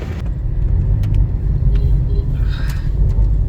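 A car engine rumbles steadily at close range, a low continuous drone near a hospital with faint higher clicks over it and no speech.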